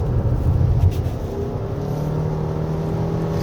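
2023 Toyota RAV4 Hybrid AWD pressed hard in sport mode on a rainy winding road, a steady low engine drone with a slight surge at the start, heard from inside the cabin with no talking.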